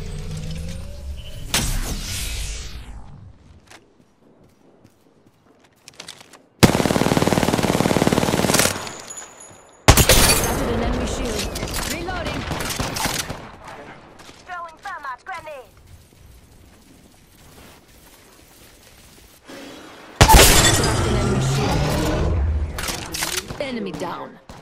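Gunfire from the battle royale video game Apex Legends comes in loud, dense sustained bursts, broken up by quieter stretches of game sound and a voice talking over the action.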